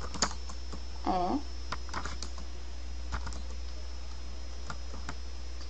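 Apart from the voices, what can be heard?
typing on a computer keyboard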